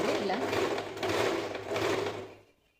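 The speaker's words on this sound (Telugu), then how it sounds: "ఫస్ట్ సూదిని ఇలా మిషన్ అయితే ఆపరేట్ చేయాలి" An Usha Janome sewing machine runs steadily after oiling, a close, continuous whirring mechanical hum with a fast rhythmic needle clatter that slows and stops near the end.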